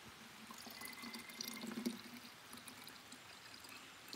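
Coconut water pouring steadily into containers outdoors on a farm in Jamaica, a continuous close trickling stream with slight splashes and drips, no talk over it.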